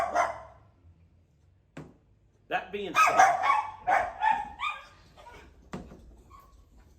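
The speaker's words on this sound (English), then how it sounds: "Apologize for his barking." A dog barks in sharp bursts and lets out whimpering cries indoors, loud and close, with people talking between and over the outbursts.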